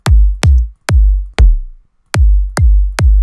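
Seven punchy EDM kick drum hits with deep, booming low ends and short decays, played loud and alone in an uneven rhythm with a brief gap in the middle.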